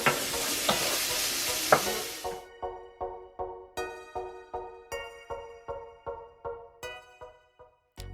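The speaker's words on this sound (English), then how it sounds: "Right now I just cut it up into slices and I'm just frying that up" Sliced bacon frying in a pan: a loud, steady sizzle for the first couple of seconds, then a run of evenly spaced scraping strokes as the pieces are stirred, each followed by a softer crackle.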